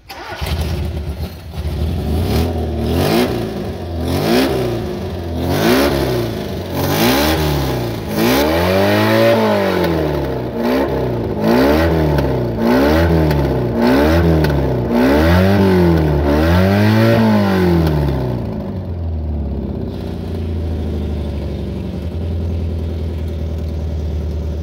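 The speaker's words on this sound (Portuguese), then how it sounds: "Funcionando, tá certinho. Motor do Uno." A 1994 Fiat Uno car engine runs close by and is revved repeatedly, a series of about eight rising and falling surges in the middle before settling back to a steady idle.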